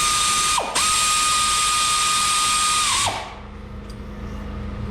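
A powered ratchet wrench tightens a brake bolt on a 2020 Ram 3500, whirring in a steady high whine that bogs briefly, runs again for a couple of seconds, then stops abruptly.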